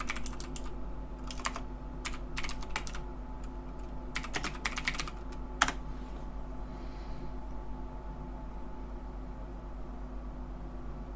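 Keys clatter on a computer keyboard in short bursts as a file name is typed into photo-editing software, with a steady low hum of room noise between the clicks.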